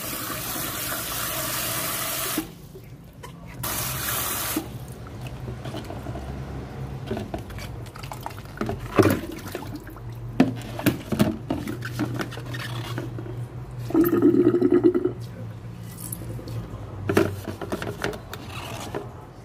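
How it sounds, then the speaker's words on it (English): Salty preserved radish (chai po) rinsed under a running kitchen tap, with water splashing into a sink, clinking dishes and utensils, and brief pauses and louder gushes throughout. "This one is very salty, so you have to wash it properly."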